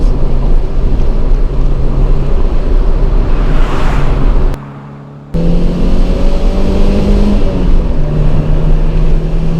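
Peugeot 205 GTI with PTS kit, 125 hp, warm engine, droning loudly and continuously close by, with a brief cut in sound mid-way followed by rising and settling engine tones.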